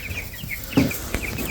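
Meat chickens and laying hens in a coop give scattered soft clucks and small chirps, with one louder close cluck near the middle over a steady farmyard background.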